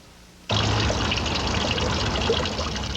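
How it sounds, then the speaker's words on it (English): Water splashes steadily from a Tuscan-style garden fountain in Palm Beach, a continuous close trickling and pouring that starts abruptly after a brief quiet moment and runs on alone without voices. "that comforting sound of water falling from your Tuscan fountain"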